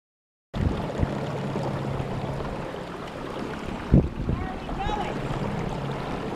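A kayak with a hands-free trolling motor glides across open water, with a steady low motor hum, water rushing along the hull and wind noise, plus a brief bump partway through.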